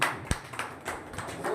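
Brief hand clapping in a class setting, a single sharp clap followed by a few softer scattered claps over a short span, no talk.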